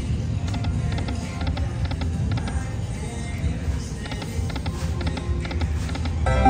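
A casino slot machine spinning its reels, a steady mechanical whir with rapid clicking ticks in short bursts, loud and close amid a busy gaming-floor hum, no voices.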